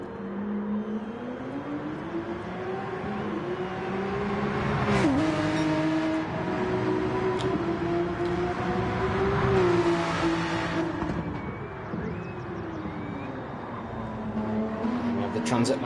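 A Porsche race car in a sim racing game of an online GT endurance event at Spa runs with a steady engine drone that rises and falls through gear changes, heard under ongoing commentary.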